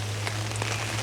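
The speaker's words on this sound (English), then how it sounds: "Dave, What do you reckon to this rain, mate?" Heavy rain shower pattering steadily on a winter hammock camp outdoors, a dense continuous hiss with a low steady hum beneath, short and unbroken.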